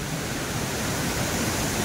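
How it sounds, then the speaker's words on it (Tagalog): Floodwater pours down from the mountains during a typhoon, a loud, steady, unbroken rushing roar with no pauses or voices. "kaya nga lang yung tubig na bumabagsak galing sa kabundukan"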